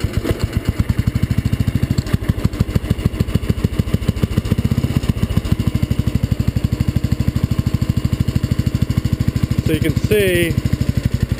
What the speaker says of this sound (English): Then we start up the bike.